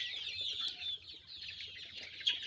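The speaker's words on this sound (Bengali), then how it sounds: "দেখেন কি সুন্দর করে খাচ্ছে এবং মুরগিগুলো কি চঞ্চল" Forty-day-old chickens cluck and chirp softly while pecking at feed, a steady bright flock chatter close by with no talking.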